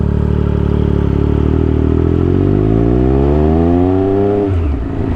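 A Triumph Speed Triple 1200 RS motorcycle is ridden hard, its engine loud and close as it revs and climbs steadily in pitch through the gear, then drops off sharply near the end with a brief clatter.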